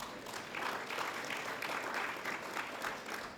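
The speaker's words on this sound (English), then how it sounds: "I think we should just give them a really warm round of applause for all the great work that they have done." An awards-ceremony audience gives a warm round of applause, a steady, full patter of many hands clapping that holds an even level for a few seconds.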